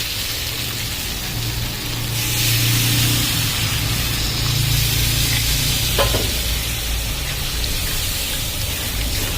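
Aloo posto, potatoes with poppy seeds, sizzles steadily in a pan as a little water goes in, with a brief splash and stirring. The hiss is close, continuous and fairly loud, with no talking.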